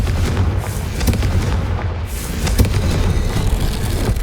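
Loud booming blast from the Confringo fire spell in Hogwarts Legacy, a heavy explosion with rumbling crackle that stays dense and forceful throughout, no talking.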